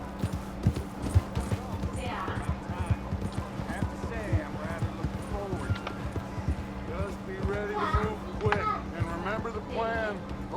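A horse in the Red Dead Redemption 2 video game clip-clops in a steady run of hoofbeats, heard under ongoing voices.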